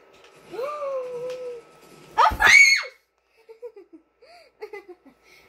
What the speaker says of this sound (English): I just screamed.